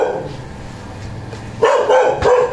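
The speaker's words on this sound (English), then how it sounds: "There's a dog!" A dog barks twice at close range, loud and sharp, over a low background hum on a street in Metro Manila, Philippines.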